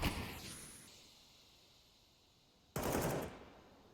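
Automatic gunfire in a Counter-Strike pro match, a short burst rattling out loud and close after a quiet stretch, with a faint earlier burst near the start.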